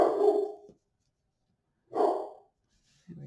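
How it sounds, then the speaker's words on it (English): A pet dog barks indoors in two short, close bursts separated by a pause, followed by a softer brief sound; no one speaks. "And there's my dog. Not sure what she's barking at"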